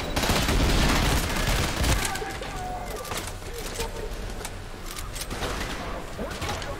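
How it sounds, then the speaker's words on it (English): Minigun fire in the shooter Trepang2 opens as a loud sustained burst of rapid gunfire that trails into a rougher, sputtering stream of shots and debris noise. "must be another guy with a minigun, I'm guessing"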